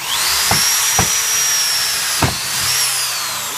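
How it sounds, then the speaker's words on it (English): A power drill whines steadily as it bores a hole through an old wooden bench, a continuous loud motor tone with a few brief knocks and bumps along the way, no voices. "we're going to drill a straight hole through the other one"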